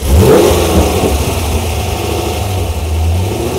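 Car engine cranked and fired by a small 3.5-pound softail lithium-ion motorcycle battery, catching with a loud rev right away, then settling into a steady close idle.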